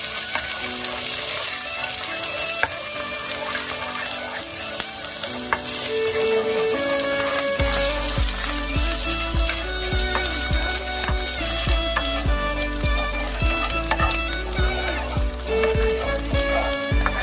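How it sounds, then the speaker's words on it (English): Egg sizzling in a hot pan while being stirred regularly into scrambled egg for an American breakfast, with a steady crackling fry and occasional stirring scrapes under continuous background music. "After that, stir the egg regularly to make a scrambled egg."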